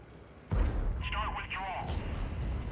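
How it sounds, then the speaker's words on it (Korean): Self-propelled artillery fires in a tank battle game, a single heavy thump landing close and loud, followed by rumbling battle noise with a voice talking over it. "자주포가 계속 날 쏘고 있지."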